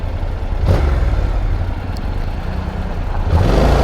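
A motorcycle engine revs while riding with the helmet visor closed, a steady low droning roar that swells at the start and again near the end, close and loud, with wind rush underneath.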